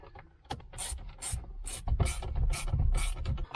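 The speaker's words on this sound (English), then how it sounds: "There's just a Torx screw on each side. You just loosen them until they come loose." Torx T30 screws being loosened on the steering wheel of a Toyota Matrix XRS to free the airbag, heard as close, repeated ratcheting clicks and scraping metal rubs in short bursts with no talking.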